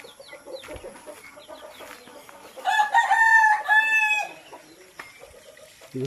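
Turkeys call loudly in the middle, a drawn-out crowing cry over quieter clucking and background birds.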